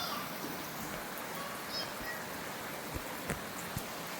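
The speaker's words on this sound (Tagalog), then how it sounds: "Our weather, it's heavy rain." Heavy rain falls steadily as a dense, even wash of hiss with scattered louder drops and taps, close and continuous, with no talking.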